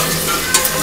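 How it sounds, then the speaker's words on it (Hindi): Dry fish curry frying in a pan, a soft continuous sizzle with a couple of brief scraping stir strokes near the end. "बीच बीच में इसे चलाते रहेंगे"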